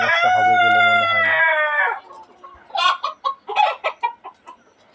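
Egyptian Fayoumi chickens in a coop: a rooster's long crow rings out up close, then a run of short, sharp hen clucks follows in quick succession.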